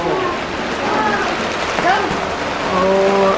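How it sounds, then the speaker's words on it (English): Rain falling at a resort in Jamaica, a steady broadband hiss of drops on surfaces close by, with a voice talking over it and tonal background sounds. "Right now it is raining."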